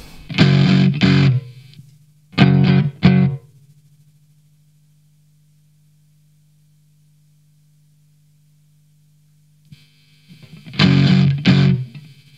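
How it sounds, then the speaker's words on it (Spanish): An electric guitar played through a BOSS OS-2 OverDrive/Distortion pedal set to distortion gives short bursts of gritty, saturated chords, separated by silence and a long sustained low hum from the amp. "Entonces ahí está funcionando como una distorsión en realidad"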